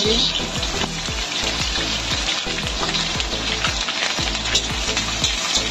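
Cardamom and crushed ingredients sizzle in hot oil in a pan for Odisha-style coconut sweets: a loud, steady frying hiss broken by repeated light clinks of stirring throughout.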